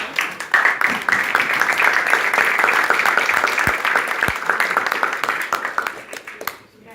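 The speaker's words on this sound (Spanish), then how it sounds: "Vamos a dar la bienvenida con un fuerte voto de aplauso." An audience at a construction-sector public procurement seminar breaks into applause, a dense sustained clapping that holds loud for several seconds before tapering off, with a voice briefly audible in the background.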